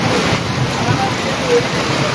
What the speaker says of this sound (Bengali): মায়ের আশীর্বাদে আজ বৃষ্টি হচ্ছে সমগ্র ত্রিপুরায়